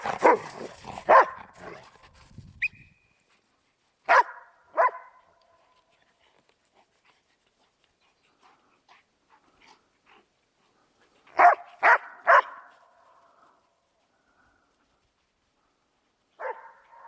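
A dog barks happily in snow in a rural village, letting out short clusters of close, sharp barks separated by long quiet gaps, with a few faint yips in between.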